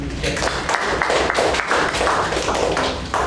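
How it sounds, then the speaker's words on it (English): Brief round of applause from attendees at a club meeting, moderately close clapping in uneven bursts, with some talking mixed in. "a round of applause for the guest."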